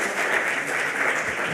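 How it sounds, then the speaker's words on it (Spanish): Brief, moderate applause from an audience at a paleontology symposium talk, a short steady patter of clapping with no voices over it. "damos un aplauso a Maru."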